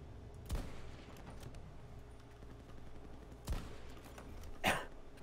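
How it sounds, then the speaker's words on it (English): Rockets fired during a Battlefield 2042 match: three sharp, loud blasts spaced irregularly over a low rumbling battlefield background, the last one a longer, hissing burst, with no talking. "Oh, they're firing rockets at me."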